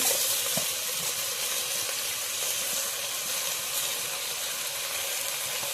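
Bottle gourd pieces frying in a pan for sambar, a steady loud hiss and sizzle holding evenly throughout, with a brief clink near the start.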